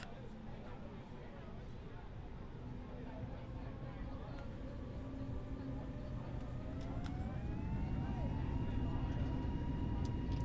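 Airbus A320 jet engines in Microsoft Flight Simulator spool up for a rolling takeoff, a low rumble that grows louder with rising whine tones, faint and steady beneath a voice.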